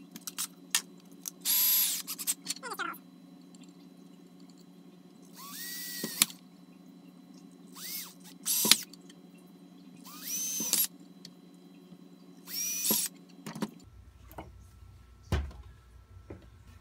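A power drill bores holes sized for M3 bolts in short, sharp whining bursts, several separate runs spaced by quiet pauses, close and fairly faint overall.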